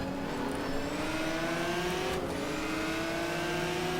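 Simulated race car engine in the GTR 2 racing game, a steady droning note that climbs smoothly in pitch and then drops as it shifts up a gear, loud and continuous with no talk.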